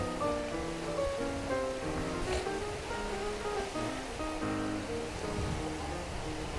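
Sea waves washing onto the shore at Eski Foça, a continuous close hiss of surf with soft rolling swells rising and falling, and no talking.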